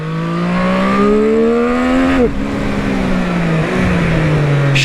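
A Triumph Street Triple 765 RS motorcycle with an up-and-down quickshifter pulls hard on a slightly damp road. Its engine revs climb loudly and steadily, then drop with a quick gear change about halfway through before rising again. No voices are heard.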